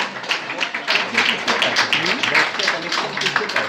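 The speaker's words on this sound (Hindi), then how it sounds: "तालियां." Audience clapping at a book launch gathering, a lively burst of overlapping claps with people talking and cheering underneath.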